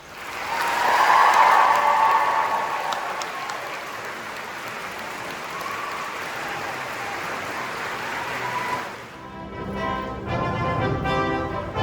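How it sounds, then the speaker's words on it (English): An audience in a graduation hall breaks into a burst of applause and cheering, loud at first then settling into sustained clapping before fading into scattered chatter and movement. "a huge round of applause and a cheer for all your friends, supporters, family and staff"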